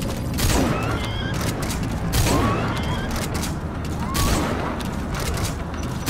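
Gunfire during combat in Metal Gear Solid V: The Phantom Pain, dense and continuous bursts of shots over a heavy rumbling backdrop, with voices shouting through the action.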